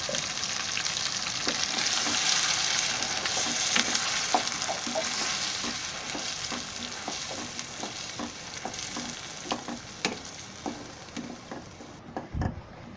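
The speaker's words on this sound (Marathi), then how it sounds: "त्याला आहे ना तेल सुटेपर्यंत परतायचं आहे, म्हणजे कांदा पण आणि टोमॅटो कच्चा आहे ना त्याच्यामुळे." An onion and tomato paste sautés in oil with a continuous loud sizzle, while a spoon scrapes and taps against the pan in an irregular rhythm throughout.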